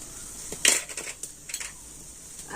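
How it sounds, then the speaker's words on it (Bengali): A utensil scrapes and clinks against a pan as vegetables are tossed with ground cumin, coriander and garam masala, producing several sharp metallic taps and scrapes close by with quiet gaps between them. "সমস্ত মশলাগুলো আবার সবজিটা আমি ভালোভাবে নাড়াচাড়া করে নিলাম"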